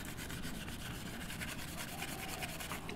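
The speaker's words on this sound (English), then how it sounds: "I'm also just gonna scuff up this edge right here real quick, right where the gasket sits" A Scotch-Brite pad scuffs the gasket edge of a 1ZZ throttle body from a Toyota Yaris, making a steady, quiet, continuous rubbing scratch with rapid back-and-forth strokes.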